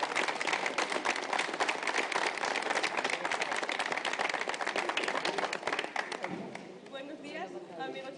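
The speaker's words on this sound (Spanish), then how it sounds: "¡Un aplauso, compañero!" An audience applauds a singer's performance with dense, sustained clapping that fills most of the stretch, then fades as a voice begins speaking near the end.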